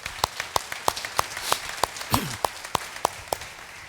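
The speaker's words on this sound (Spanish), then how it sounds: "Yo quisiera que le diéramos un aplauso al Señor por eso." A church congregation claps in unison during a service, a steady, evenly spaced beat of about a dozen crisp claps heard from moderate distance, with faint room noise between them.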